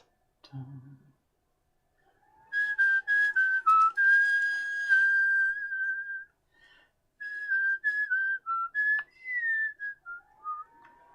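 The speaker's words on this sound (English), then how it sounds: "Oh, I should probably stop whistling." Someone whistles a wandering tune, note after note in short phrases with brief pauses, close and fairly quiet.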